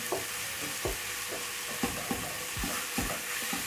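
Minced beef for a peas and minced meat stew cooking in a pan, a constant background sizzle with regular soft thumps and scrapes as the meat is stirred and broken up.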